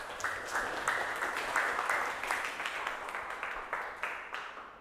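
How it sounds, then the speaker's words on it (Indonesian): A classroom bursts into applause for a student, many hands clapping in a steady, dense patter that holds for about five seconds without any speech. "tepuk tangan dulu buat Andrew."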